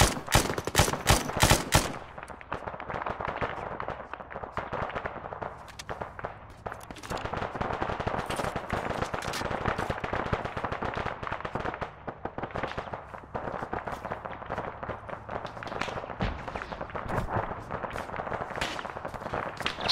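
Covering gunfire in an Arma video game battle: rapid rifle and machine-gun bursts crackling near and far, a sharp cluster of close shots at the start, then steady scattered firing throughout.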